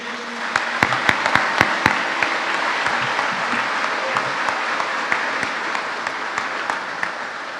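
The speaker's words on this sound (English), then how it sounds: "Please give them a round of applause for all their dedication." Applause for the faculty at a high school graduation ceremony: a crowd claps steadily for several seconds, with a few sharp, close individual claps at the start, then an even, sustained patter.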